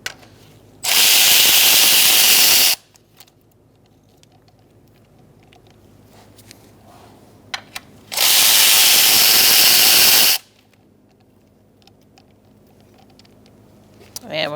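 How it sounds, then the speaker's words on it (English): Power tool whirring on 10mm valve cover bolts of a 2002-2006 Toyota Camry, two loud sustained bursts of about two seconds each separated by quiet workshop handling sounds. "Using a 10mm socket, we're going to take out this bolt and this bolt first"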